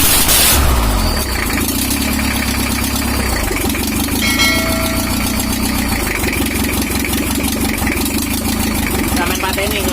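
A 1982 Toyota Hiace LH11 diesel engine cranks briefly, then catches and settles into a loud, close, steady rattling idle with a rhythmic knock.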